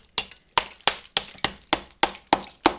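Sharp hollow chipping knocks as a hatchet chips hollow wall plaster, about eight blows at a steady pace, each a crisp crack with a brief rattle of falling bits, close by.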